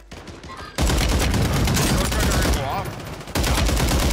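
Rapid automatic gunfire in Warzone 3 pours out in dense, loud bursts that break off briefly and resume, with a player's voice faintly underneath.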